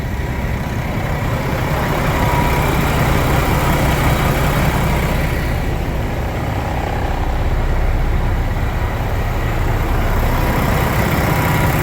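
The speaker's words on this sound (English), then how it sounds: "They turned the idle up to 650 for me." Kenworth truck diesel engine idling steadily at a raised idle, a continuous low rumble with even texture, close by and alone without talk.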